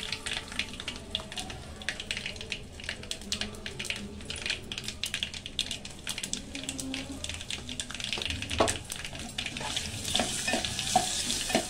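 Spices with turmeric and asafoetida tempering in hot oil for a tomato chutney, a steady crackling sizzle with scraping stirs and light metallic clinks throughout, close and fairly loud, no talking.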